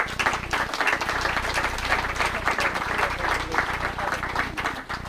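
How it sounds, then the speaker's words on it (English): Sustained applause from a crowd, steady and dense clapping filling the whole stretch without a break. "So she deserves a big round of applause."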